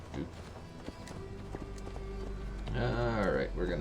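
A horse's hooves clip-clop steadily in Assassin's Creed Valhalla, a quick rhythmic trot beneath game ambience, with a voice speaking near the end.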